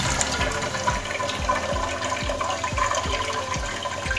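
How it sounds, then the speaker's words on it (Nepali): Water gushes forcefully into a bowl of soaked black lentils being washed for Newari bara, a continuous loud splashing rush with faint rhythmic low knocks underneath. "अलिकति पानी राखेर अलिकति फोर्सफुल्ली नै पानी पठाउनु पर्ने हुन्छ"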